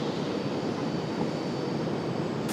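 A Copa Airlines Boeing 737 MAX 9 jet at Raleigh-Durham airport gives off a steady, broadband engine roar, moderately loud and unbroken for the whole stretch, with no voices over it.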